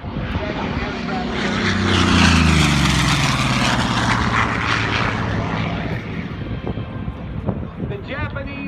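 A WWII propeller warplane roars past at the EAA AirVenture Oshkosh airshow, its engine drone rising, peaking as it passes with a falling Doppler pitch, then fading into wind noise while an announcer talks over it.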